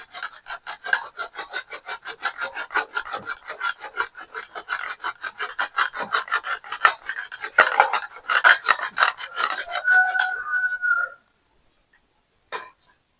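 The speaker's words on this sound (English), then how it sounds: "You make sure you grate when it is still frozen, because once it becomes soft, then it cannot grate well." Frozen cheese rubbed against a grater for homemade pizza, a long run of quick, rhythmic rasping strokes up close, steady for about eleven seconds before stopping, then a brief final scrape.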